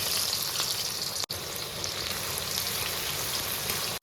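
Chopped onion sizzling in hot oil in a pan, a steady dense crackling hiss that runs close and continuous, broken by one brief dropout partway through, with no talking over it.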